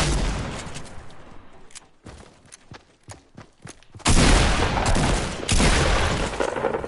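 Gunfire in a Fortnite match: a series of sharp, separated shots ringing out, followed by louder, sustained bursts of rapid fire that fill the last few seconds.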